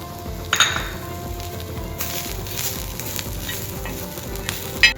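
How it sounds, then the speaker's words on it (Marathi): Grated dried coconut sizzles and crackles while roasting in a pan until brown for a Goan fish curry, with a few clinks and scrapes of a spoon stirring it. No one speaks. "आता खोबरा जरा ब्राऊन होईपर्यंत परतून घेतलो"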